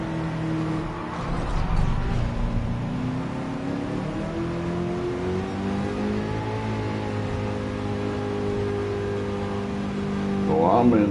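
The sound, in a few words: car engine driving in Gran Turismo 7 video game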